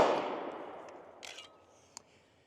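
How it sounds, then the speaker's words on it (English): A rapid string of pistol shots from an Atlas Titan handgun fired as fast as the trigger allows, a loud close burst at the start decaying into a reverberant tail with a few fainter reports trailing off. "that was mag dumping it pretty much as quick as I can pull that trigger"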